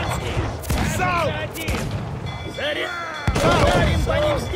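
Ship cannons fire in a naval battle in Assassin's Creed IV Black Flag, a frigate engagement, with several loud booming volleys and crackling bursts spread across the moment while excited voices shout over them.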